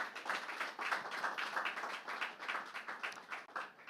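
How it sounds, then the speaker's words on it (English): Audience applause at an anniversary event of the Institute of ICT Professionals Ghana, a steady, faint patter of many hands clapping, sounding distant throughout. "I think we should give them a big hand of applause."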